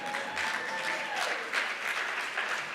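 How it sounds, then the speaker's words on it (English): A crowd claps in steady applause at a college State of the College address, moderately loud and sustained throughout, with a faint voice in the background. "I expected a good round of applause to go up at that."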